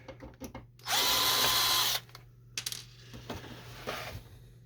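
Power screwdriver backing screws out of an HP Photosmart B210a printer, a single loud, close whir lasting about a second, surrounded by plastic handling clatter and small clicks.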